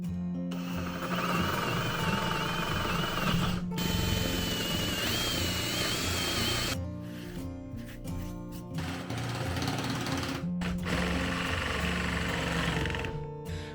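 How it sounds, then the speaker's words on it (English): Power drill boring pilot holes, then a saw cutting into a camper countertop in a converted 4x4 ambulance: loud buzzing machine runs broken by brief stops, with no voices. "I've got to drill a few pilot holes in here so that I can get my saw started."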